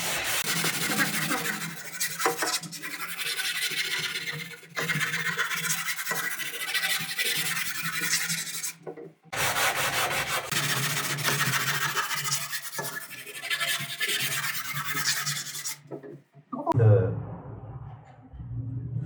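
Sandpaper scrapes back and forth across a wooden front door being resurfaced, a rough close rasping in long strokes broken by a few short pauses, with a low voice near the end.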